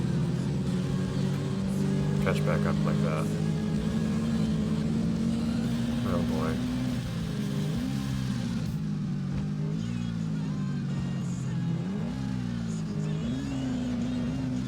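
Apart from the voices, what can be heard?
ATV engine revving uphill in ATV Offroad Fury 4 video game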